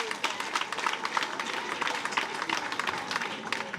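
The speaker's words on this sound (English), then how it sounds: "Give yourself another round of applause." Crowd applause at a community outreach gathering, a steady patter of many hands clapping together, fairly distant and moderate in level, continuing throughout without a break.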